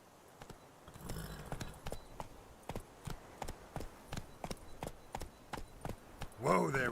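Roach, the horse in The Witcher 3, clip-clops along at a steady walking rhythm, soft hoofbeats repeating evenly, ending in a brief whinny-like snort.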